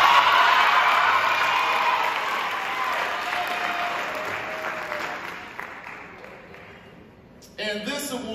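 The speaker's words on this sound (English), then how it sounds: "Let's give a round of applause for Oyen." A crowd applauds a middle school cross country team member at a coach's awards event. The clapping starts full and slowly thins and fades before a voice returns at the very end.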